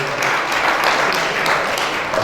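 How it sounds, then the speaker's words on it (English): Sustained round of audience applause at an interview event, dense and even clapping from a crowd, loud and close without gaps. "So, another round of applause"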